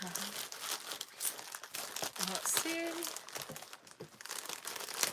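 Packaging crinkling and rustling steadily as a well-wrapped parcel is unwrapped during an unboxing, close and continuous, with a person talking briefly over it.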